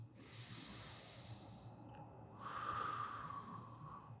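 Slow breathing during a somatic exercise: soft, close inhales and exhales with a faint nasal hiss, quiet and unhurried, the second breath slightly fuller, with no talking.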